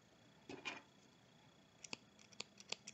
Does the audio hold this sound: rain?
no